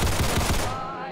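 Modded pistol emptied in rapid succession in Fallout 4, a dense burst of close, loud shots running for most of a second before a ringing tail and one faint final click.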